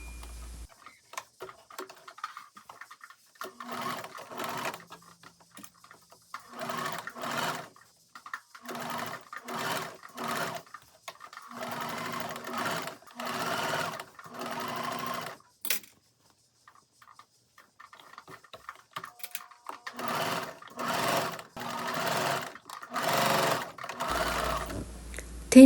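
A sewing machine top-stitches a denim round-neck dress, running in repeated short bursts of rapid clattering stitches separated by brief pauses, close and clear, with a longer quiet gap midway.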